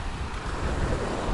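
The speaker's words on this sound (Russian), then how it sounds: "Сегодня море штормит." Stormy sea surf rolling onto a sandy beach near Kerch, Crimea, a loud continuous wash of breaking water mixed with wind rumble across the whole short stretch.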